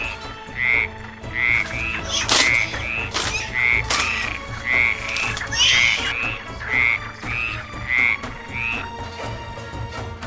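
Frogs on lotus leaves croak in a steady, repeating chorus, each croak a short, bright burst at regular intervals, with a continuous wet rattling texture beneath.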